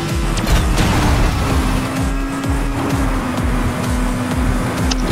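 A racing car in Asphalt 9 fires its nitro boost, a loud continuous engine roar with a steady rising whine and rapid rhythmic pulsing, close and unbroken for about five seconds, no talk.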